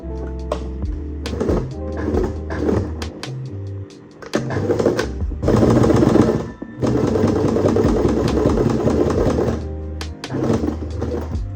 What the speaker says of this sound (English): I'm just going to sew it down